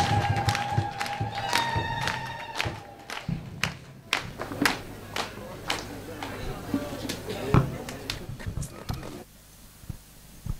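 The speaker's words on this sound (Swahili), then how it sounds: "kwa makofi na bashasha na shangwe." Applause and cheering from a crowd at a Catholic bishop's ceremony, with bursts of clapping and scattered thumps across the space, fading toward the end.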